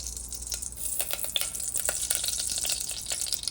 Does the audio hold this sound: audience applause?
no